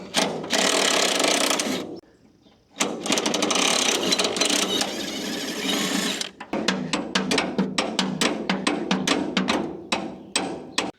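Bolts being tightened on a hay mower with a power tool, outdoors: two long, loud mechanical whirring runs separated by a short pause, then a quick series of sharp, regular ratcheting clicks, with no talking.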